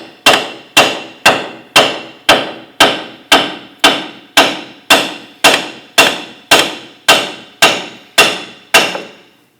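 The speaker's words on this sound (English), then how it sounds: "Use our hammer, go ahead and tap this out." A hammer strikes a punch to drive out a control arm bolt on a 2006–2010 Hummer H3: about seventeen sharp metallic taps at an even, quick rhythm, loud and close, each ringing briefly.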